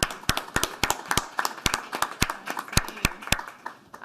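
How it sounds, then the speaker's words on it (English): Scattered audience claps for a government minister at a press announcement, sharp separate hand claps in an uneven rhythm that thin out over about four seconds, moderately near, no talk. "j'aimerais vous inviter à applaudir et reconnaître Jenna Sudds"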